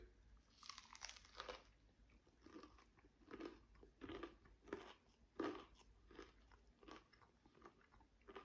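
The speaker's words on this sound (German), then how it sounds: "Und ich werde hier gleich mal reinbeißen." Someone bites into and chews a McDonald's McCrispy Bacon burger with a crispy bacon topping, giving faint, close crunching and munching sounds that come in irregular bursts over several seconds, with no talking.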